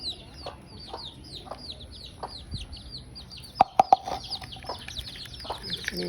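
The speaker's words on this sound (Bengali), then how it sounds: "এই যে দেখেন এরা কীভাবে খাচ্ছে" Chicks eating beetle larvae, with rapid high peeping and chirping throughout, a few low clucks, and a quick cluster of sharp pecking taps partway through.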